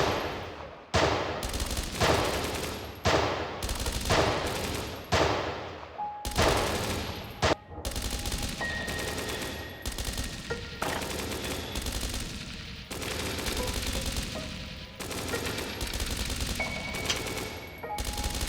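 Gunfire in the video game Dreams Of Another, loud rapid bursts of automatic shots repeating in quick volleys, with brief pauses between them.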